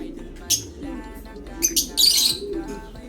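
Pigeons in a loft or coop give short chirps, coos and squawks in a few quick bursts, close, over a low steady background hum.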